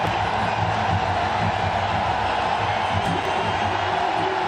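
Cricket stadium crowd at an India versus Pakistan Asia Cup final roaring in a dense, sustained wash of cheering after a big hit, steady and loud throughout.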